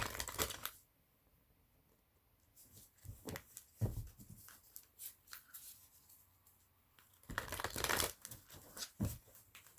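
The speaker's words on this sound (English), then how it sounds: "I'm going to give it a couple of shuffles just to clear the energy on these cards" Tarot cards being shuffled by hand in short, crisp bursts of riffling and sliding, with quiet pauses between them, close and soft.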